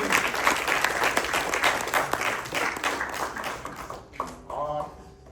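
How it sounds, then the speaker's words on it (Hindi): Clapping from a theatre audience at a Hindi play, sustained and fairly loud, fading out near the end as a voice begins speaking. "इस बात पे अलग से तालियां।"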